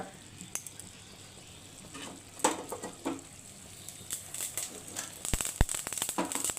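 Black cumin seeds spluttering in hot mustard oil, faint sizzle building into a quickening patter of small pops and crackles toward the end, with utensil clinks mixed in.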